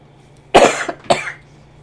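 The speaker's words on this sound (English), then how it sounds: "guys, the cough is coming back." A person coughs twice in close succession, sharp and close to the mic, against a quiet room background. The cough follows a recent bout of bronchitis.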